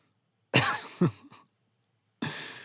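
Two sharp coughs close together, a faint throat sound, then another cough after a short silence; near and fairly quiet.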